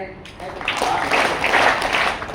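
A group claps its hands during a sing-along at an awareness program, a short burst of clapping that swells and fades, mixed with voices.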